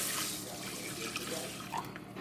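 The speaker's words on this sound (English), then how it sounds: "So I'm going to fill up with a 1/2 inch of water." Tap water runs into a cooking pot as it fills, a steady soft splashing stream at close range with slight gurgles, heard alone without talk.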